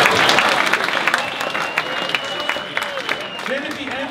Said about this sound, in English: All right, let's give a round of applause.